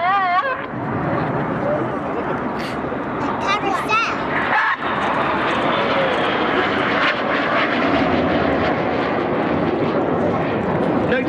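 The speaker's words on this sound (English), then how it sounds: "They're going to cross 3 times in opposing 360 degree 6G turns. This is the carousel." Red Arrows jets crossing in opposing 360-degree 6G turns of the carousel manoeuvre at an air show, a loud sustained jet roar with rising and falling whines, under a commentator's voice and crowd noise.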